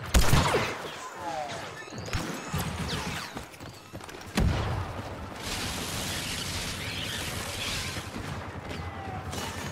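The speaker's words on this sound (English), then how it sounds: "Grenade." A grenade detonates during a Star Wars Battlefront 2 ground battle, a loud sudden blast around four seconds in that is followed by a dense rumble of gunfire and battle noise, with earlier crashes and shots also heard.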